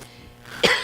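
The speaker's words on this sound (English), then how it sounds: "Apologize for my cough." A single short, rough cough breaks out near the end after a quiet stretch, close and fairly loud, during a tabletop board game session.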